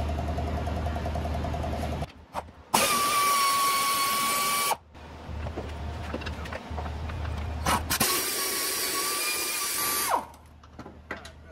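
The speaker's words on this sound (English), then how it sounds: "I'm gonna use my air ratchet." Air ratchet removing 13 mm sway bar bolts on a 2015 Chevy Spark: two loud, steady whining pneumatic runs of about two seconds each, close up, separated by quieter workshop noise.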